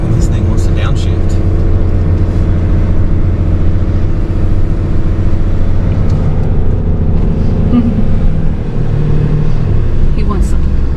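A vehicle towing a trailer climbs a very steep road in Gatlinburg, its engine droning low and steady under the strain as the transmission tries to downshift, with people talking over it throughout.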